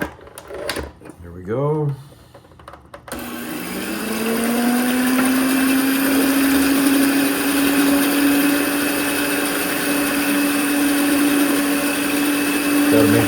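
An electric mixer whirs steadily as it blends cupcake batter with three whole eggs, a continuous motor hum running from about three seconds on, after a short burst of speech at the start.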